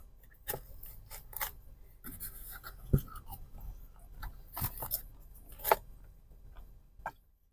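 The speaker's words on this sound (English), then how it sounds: "So the batter is very good actually. So it's nice and crispy, if you can hear that." Crisp crunching bites into battered fried fish, irregular and close, a handful of sharp crackly bursts spread over several seconds with quiet pauses between.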